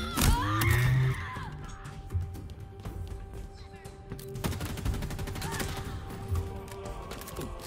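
Gunfire in Halo Infinite: a fast rattling burst of automatic shots opens, then further rapid volleys follow after a pause, loud and close over a low game ambience.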